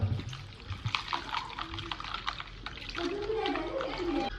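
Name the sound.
cold water poured into mango drink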